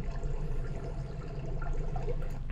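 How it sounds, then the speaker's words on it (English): Downloaded sound effect of water boiling, a steady bubbling and gurgling wash with small pops scattered through, moderately loud and continuous with no voices. "I just download from internet water boil sound."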